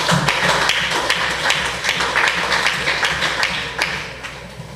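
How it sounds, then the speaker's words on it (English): Audience applause after judges reach a decision at a school competition between two schools, dense sustained clapping at steady loudness throughout, close and full with no talk. "Please, a round of applause again."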